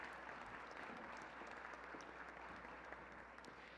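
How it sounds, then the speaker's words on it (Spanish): Steady, dense applause from an audience at a panel session, sustained throughout with no pauses. "Un aplauso para ella."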